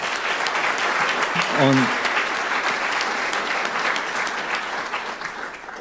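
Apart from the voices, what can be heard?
audience applause at a lecture event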